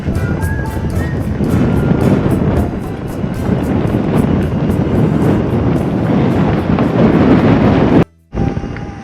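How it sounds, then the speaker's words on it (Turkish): Motorbike engine straining loudly as it climbs a hill on island streets of Avşa, with heavy wind buffeting the microphone, a steady close roar that cuts out briefly near the end. "Biz şu an motorla böyle tepeye çıkmaya çalışıyoruz."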